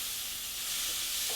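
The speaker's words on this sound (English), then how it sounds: "Oh, I love that sizzle." Meat sizzling in a hot pan for a protein roast, a bright steady crackle and hiss heard up close with no talking.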